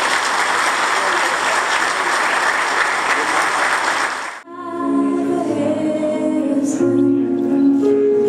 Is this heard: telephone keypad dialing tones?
no